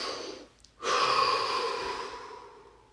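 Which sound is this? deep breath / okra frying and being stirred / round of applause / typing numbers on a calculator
deep breath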